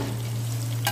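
Tofu cut in large pieces hits a frying pan and gets stirred, a brief burst of sizzle and scraping near the end over a steady low background hum.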